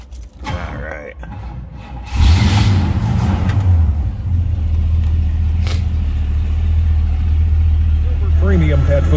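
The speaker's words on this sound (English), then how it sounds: "Let's go ahead and fire it up." A 1967 Pontiac Firebird convertible engine cranks and catches, revving up loudly before settling into a steady, rumbling idle, while a person talks over it.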